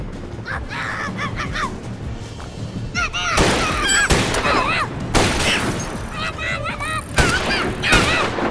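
Gunfire in the video game Naughty Bear comes as loud, sharp bursts of shots and booms, some rapid, with yelling and game voices between the volleys.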